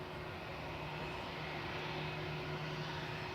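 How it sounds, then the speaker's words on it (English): A Vueling airliner taxiing at Manchester Airport gives a steady, distant engine roar with a faint whine, unbroken and even throughout, with no voices. "Vueling is taxiing out"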